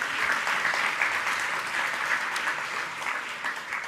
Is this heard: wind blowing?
no